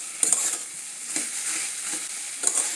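Ghee sizzles softly in a frying pan as Bengali food cooks, a steady fine hiss with a few faint stirring clicks, quiet and without talk.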